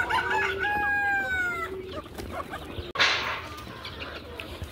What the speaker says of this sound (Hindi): इधर हमारी मुर्गी है माशाल्लाह, गोल्डन मुर्गी भी है, देसी मुर्गी भी है